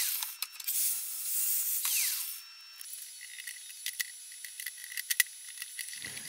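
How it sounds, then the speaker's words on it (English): Cutting M6 bolts to length with a power tool: a loud, steady hissing cut for about two seconds, followed by scattered light metallic clicks and taps as the bolts are handled, no talking. "So let's cut some bolts off that I'm going to use"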